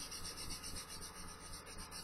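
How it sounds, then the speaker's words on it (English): A sanding stick rubs back and forth under light pressure on a small round part, rolled along with it in short strokes, giving a steady, quiet rasping scrape that continues without talk. "basically with light pressure I'll roll the sanding stick"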